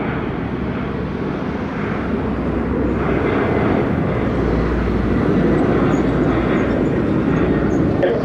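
A Delta airliner taking off at Montego Bay, Jamaica, gives a loud, steady jet roar with a deep rumble that holds strong for the whole stretch, with no voices over it.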